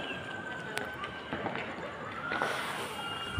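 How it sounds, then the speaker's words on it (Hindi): Scattered sharp cracks and pops from distant firecrackers set off on Karwa Chauth night, over a steady hiss of outdoor background noise, irregular and fairly faint. "उधर पटाखे चल रहे हैं"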